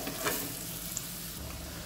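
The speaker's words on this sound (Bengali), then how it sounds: "এইভাবে স্লো হিটে রেখে ধীরে ধীরে আলুটাকে কুক করে নেবেন।" Potatoes cook slowly over low heat with Kashmiri chili powder, producing a gentle continuous sizzle close by and a few light stirring scrapes early on.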